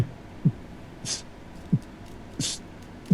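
A man imitates a heartbeat with his voice, making soft low thumps in a steady lub-dub rhythm, with a brief higher hiss between pairs; the sound is near, quiet and alone, with no talking.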